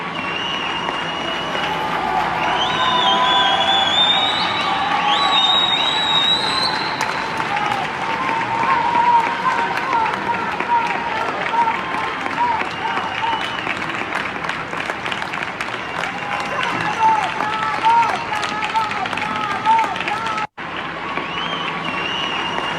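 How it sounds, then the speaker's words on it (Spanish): Sustained applause from crowds in Spain honoring health workers, doctors and nurses, steady and dense over about twenty seconds with scattered cheering, whistles and voices mixed in, briefly cutting out near the end. "Así aplauden en España a los trabajadores del servicio sanitario, a los médicos, a los enfermeros, a las enfermeras"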